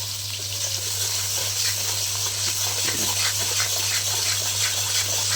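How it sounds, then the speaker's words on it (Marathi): Steady sizzling of garlic frying in hot oil for a green chilli thecha, continuous and close, with a low constant hum underneath and no talking. "आता लसूण भाजून घ्यायचा बघा लालसर"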